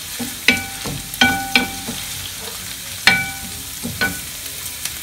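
Onion sizzles in olive oil in a metal tajine, a soft frying hiss broken by several sharp metallic clinks and taps of a utensil against the pan.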